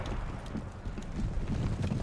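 Cavalry horses gallop in the Napoleon Total War 3 mod battle, a rapid, dense drumming of hooves with a low, windy rumble underneath, steady and unbroken for a couple of seconds.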